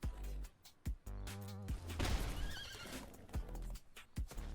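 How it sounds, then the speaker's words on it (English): A pet horse in a digital card game whinnies repeatedly with clip-clop hoof sounds, loud and close, in short stylized bursts with no talk. "Stop whinnying, horse."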